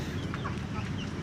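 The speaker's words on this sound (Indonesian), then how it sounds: "Ini namanya ayam Bangkok." Bangkok chickens, some of them sick, cluck softly in a dirty coop, a brief run of low, close clucks over a steady background hum.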